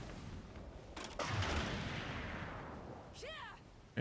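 A ship's cannon fires in a naval roleplay game, a sudden booming blast that rolls out into a long fading rumble, with brief voice-like sounds near the end.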